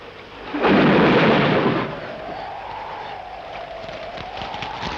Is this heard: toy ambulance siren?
no